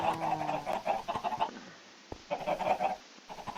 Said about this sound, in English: But I'm going to keep my chicken farm up and going for now.